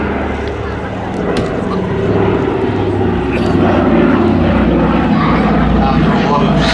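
Piston engines of a Douglas C-47 Dakota propeller aircraft rumble steadily at an air festival, a broad continuous drone that swells slightly partway through, with crowd and outdoor noise mixed in.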